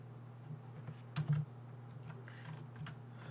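Typing on a computer keyboard during Houdini VFX work, with quiet scattered key clicks and a short burst of louder taps in the middle over a low steady hum.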